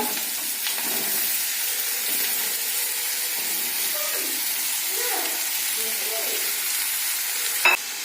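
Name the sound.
cut potato and ridge gourd added to hot pan, frying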